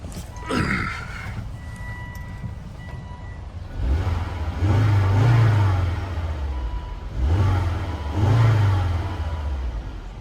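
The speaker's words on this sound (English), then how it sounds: "Healthy 5-cylinder, man." The five-cylinder engine of a 2006 Volvo XC70 Cross Country idles with a low hum. It swells into two distinct revs a few seconds apart, each rising and falling smoothly, heard from nearby inside the car.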